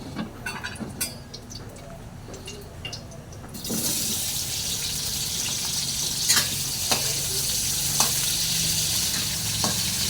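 Cooking oil for adobo sizzles and crackles steadily, starting quieter and jumping to a loud, continuous hiss of frying partway through, with scattered pops.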